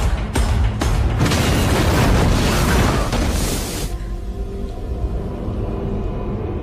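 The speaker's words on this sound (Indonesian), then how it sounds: "dia tidak bisa menahannya dan meledakkan toilet tersebut" A toilet blows apart in an explosion scene from the 2022 film Firestarter, a loud sustained boom with rushing debris and roar that fades into a lower rumbling tail.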